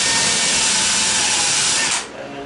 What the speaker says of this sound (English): I'm going to pre-drill.